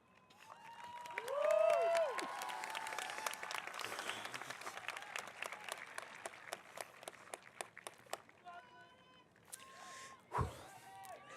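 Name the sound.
graduation ceremony audience applauding and cheering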